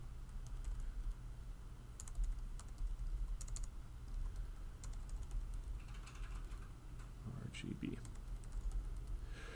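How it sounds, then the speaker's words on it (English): Computer keyboard keys tapped while writing a line of Arduino code, a light, uneven run of clicks and short bursts at close range over steady low room hum, with a brief spoken word. "I'm going to write this line of code because I can't write and talk at the same time."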